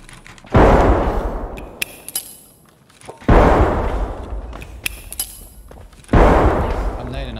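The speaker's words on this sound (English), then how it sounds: "Oh my god, he's already shooting me." Gunfire in the Escape From Tarkov video game: three loud, sharp blasts a few seconds apart, each trailing into a long decaying rumble, with small clicks and thuds between them.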